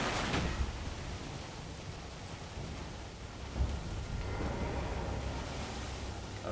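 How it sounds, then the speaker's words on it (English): Thunderstorm with rain and lightning in the video game Elden Ring: steady loud rain hiss with low rumbling thunder and a couple of sharp cracks, no talking. "Why is there so much lightning?"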